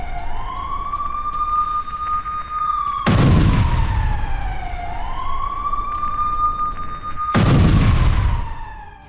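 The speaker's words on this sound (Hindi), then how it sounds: "आर्टिलरी से अबू अकर बिल्डिंग पर अटैक हुआ है।" During an artillery attack on the Abu Akar building in Gaza, two loud, booming blasts a few seconds apart cut through a siren that wails up and down the whole time.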